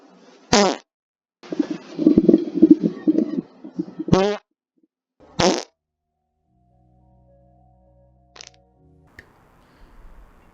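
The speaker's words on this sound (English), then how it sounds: "We're looking for unique, special farts." Several short, loud farts, each one isolated, with longer broken bursts and pauses between them, followed by faint quiet rustling near the end.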